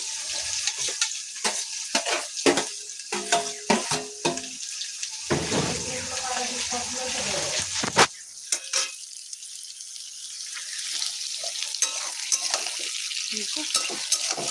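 Potatoes that were fried earlier go back into a pan, giving sizzling and stirring scrapes with clatter, fading to a quieter continuous fry.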